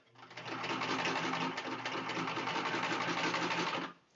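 A sewing machine stitches fabric for a car trash bag with pockets, running in a steady, rapid mechanical whir for about three and a half seconds with a brief dip midway.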